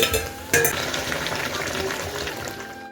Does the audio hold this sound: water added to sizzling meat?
yes